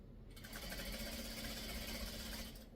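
A sewing machine stitching pumpkin quilt fabric from a pre-cut quilt kit, running in one short steady burst of rapid needle chatter, close but quiet, with no talking.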